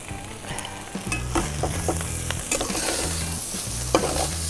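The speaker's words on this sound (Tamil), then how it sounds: "இப்போ இந்த எண்ணெயிலே வேகட்டும், கொஞ்சம் ஒரு 2 நிமிஷம் வேகட்டும்" Sheep blood fries in oil in a pan, a steady close sizzle broken by repeated scraping stirs of a spoon against the metal, with no talk.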